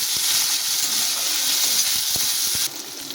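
Spices and salt sautéing in a pan for a Bombay duck (loitta) fish bhujia, a steady close sizzle with a few soft stirring knocks, easing slightly near the end.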